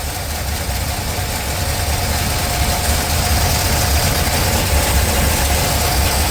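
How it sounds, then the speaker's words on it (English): A 1969 Chevelle barn find, its carburetor freshly rebuilt, idles steadily with a low rumbling engine note and a possible exhaust leak, heard close and continuous with no talking. "Sounds a little exhaust leaky over here"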